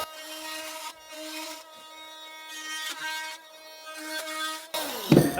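A brush plate is cut out for a garden room build, giving sustained rasping, sawing strokes in several bursts with a steady tonal hum beneath, close and moderately loud, ending in a sharper louder burst.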